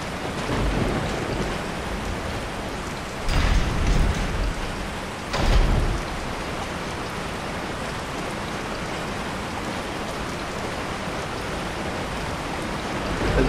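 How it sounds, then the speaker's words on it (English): Rainstorm in the video game Resident Evil 4: constant heavy rain hiss throughout, broken by two short, loud thunder cracks with low rumbles a couple of seconds apart, with no talking. "Now that we've got a fun storm going on here"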